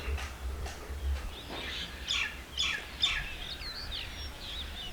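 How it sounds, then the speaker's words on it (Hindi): Small birds chirp and twitter around a hillside town mosque in Lehri Brahmna, Kahut, Pakistan, with several short calls in scattered bursts, moderately near over a low steady rumble. "परिंदों की आवाज़ें चारों अतराफ खूबसूरत"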